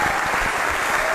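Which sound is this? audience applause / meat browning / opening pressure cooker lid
audience applause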